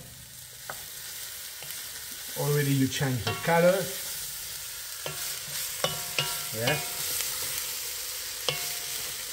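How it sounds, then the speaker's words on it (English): Peppers fry and sizzle in a drop of oil in a pan for ratatouille while being stirred, with a steady hiss and scraping stirs in bursts, close up; people talk briefly over it. "I put a drop of oil, and I'm going to add soon the peppers as well, like this."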